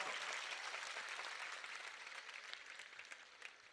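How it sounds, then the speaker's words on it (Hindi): Audience applause at a poetry gathering before a nazm recital, a soft but dense round of clapping that gradually thins over a few seconds. "एक बार मुझे ताली बजा करके माहौल दीजिए"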